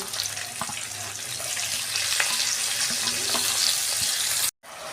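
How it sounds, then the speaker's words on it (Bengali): Onions frying in hot oil with bay leaf, cinnamon, cardamom and cloves, a steady close sizzle with occasional stirring taps that cuts off abruptly near the end. "পেঁয়াজটা আমি একটু ভেজে নিচ্ছি।"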